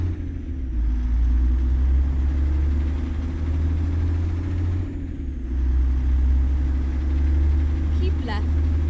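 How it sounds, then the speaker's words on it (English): A truck engine in American Truck Simulator drones at high RPM, a loud, steady, low rumble that eases briefly before resuming. "at higher RPMs, this is not a pleasant engine sound in this engine"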